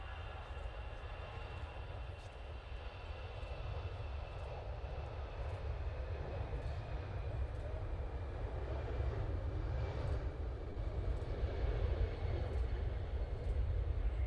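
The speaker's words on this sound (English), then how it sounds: "that Aer Lingus is back off to Dublin" An Aer Lingus airliner takes off at Manchester Airport, its jet engines a broad, steady roar that builds slightly in loudness through the clip, heard from a distance with faint voices underneath.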